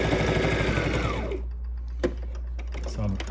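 A sewing machine runs a zigzag stitch with a close, loud whirring hum that winds down after about a second and a half, followed by a few faint clicks and handling sounds.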